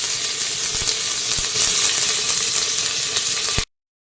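Crushed shallots drop into hot oil with curry leaves and slit green chilies for a chicken pepper rasam, giving a loud, close, steady sizzle with small crackles that stops abruptly.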